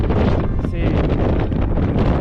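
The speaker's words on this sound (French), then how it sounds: "on a l'impression vraiment d'être au vent" Strong, gusty wind blasts across the microphone on the foggy summit of Pic de Nore, a dense, roaring rush that stays loud and constant throughout.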